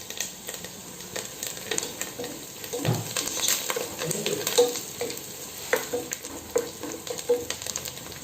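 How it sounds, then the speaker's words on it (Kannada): Onions and curry leaves fry in a pan, a steady soft sizzle with scattered clinks and scraping stirs throughout, no voices. "ಈ ಈರುಳ್ಳಿ ಸ್ವಲ್ಪ ಕೆಂಪಗಾಗುವ ತನಕ ಹುರ್ಕೊಂಡ್ರೆ ಸಾಕು, ಜಾಸ್ತಿ ಹುರ್ಕೊಳ್ಳೋದು ಬೇಡ."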